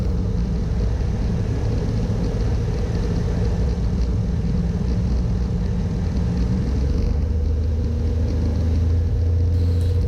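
Steady loud engine drone with a low rumble fills the whole stretch, a Cessna 182 propeller aircraft heard from inside while slowing on a long final approach, its pitch shifting slightly near the end.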